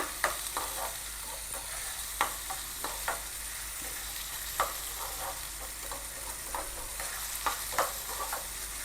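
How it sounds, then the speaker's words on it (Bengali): Spoon stirring a potato and onion kachori filling as it fries in a pan: a steady close sizzle broken by scattered scraping clicks of the spoon against the pan, with no talking. "আর একটু নাড়াচাড়া করবো"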